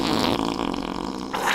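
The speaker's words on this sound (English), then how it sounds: "there is no way your underwear is clean after that fart" A loud, drawn-out fart of about a second and a half, close to the mic, with a rough rumbling texture and no talk over it.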